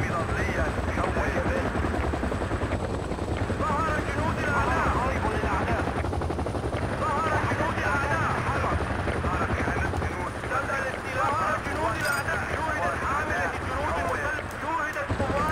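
A helicopter drones steadily throughout a video game battle in Zatar Wetlands, rotor noise loud and continuous, with bursts of gunfire mixed in and a voice talking over it.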